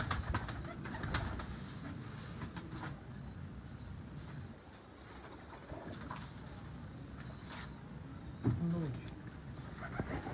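Taddy pigeons coo softly amid steady outdoor background noise, with a slightly louder burst of low cooing near the end.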